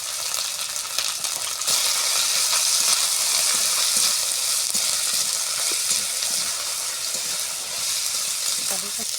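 Cumin paste and chili powder fry in oil for a moong dal vegetable dish, making a loud, steady sizzle with hissing and occasional stirring scrapes throughout.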